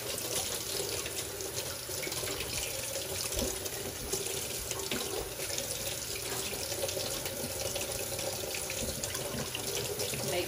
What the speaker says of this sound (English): Make sure you wash your hands well when you get done doing this